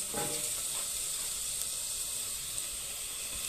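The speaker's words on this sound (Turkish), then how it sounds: "Şimdi soğanımızı sarımsağımızı ilave edeceğiz." Onion and garlic go into a pan of sautéed mushrooms, giving a steady, close hiss of sizzling that stays even throughout with no talking.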